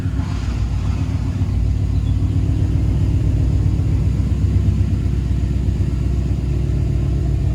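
A Ford Coyote V8 engine swapped into a 1993 Fox-body idles loudly and steadily near 1,000 RPM in a garage, a deep constant rumble echoing off the enclosed space.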